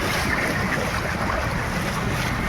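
Heavy floodwater rushes through the market streets of Pambhar Itala village in Rajkot district after a downpour, giving a loud, steady, broadband wash of flowing water with wind buffeting the microphone and no voices.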